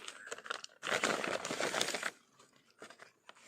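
A gadget's packaging being unboxed: plastic and paper crinkle and tear in close, busy bursts, loudest in one long rustle in the middle, then quieter handling scrapes.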